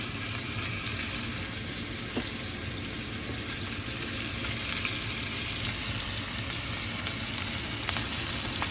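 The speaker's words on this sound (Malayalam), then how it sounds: "തിളയ്ക്കുന്ന എണ്ണയിലേക്ക് ഇങ്ങനെ വെച്ച് തുടങ്ങി." Fish fried with masala in boiling oil, a dense, loud, continuous sizzle close up with a few faint clicks and no talking.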